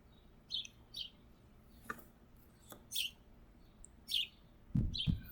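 Birds chirp outdoors in short, separate high tweets spaced about a second apart, moderately near, with a low background rumble and a louder thump near the end.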